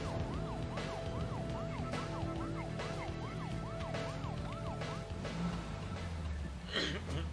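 Police car sirens in the video game Deadly Premonition wail in a repeating up-and-down pattern, moderately loud over a low engine rumble, then fade out near the end.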